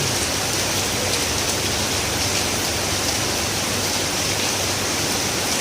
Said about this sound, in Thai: ฝนตกช่วงกลางวันนะครับมีเมฆมาก ชมบรรยากาศฝนตก